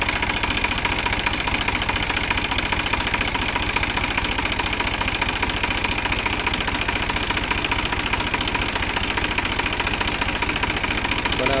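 A New Holland tractor engine idles up close with a steady, rapid mechanical knock and throb, loud and unbroken throughout, while someone talks over it at moments.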